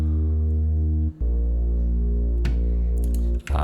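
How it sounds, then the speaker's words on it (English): A simple synth bass patch built in Phase Plant sustains as steady low, buzzing tones with rich harmonics, changing notes around the one-second mark and near the end, alone at a moderate level with a brief noisy swell midway. "Also coming in for the second part of the intro we have a bass sound"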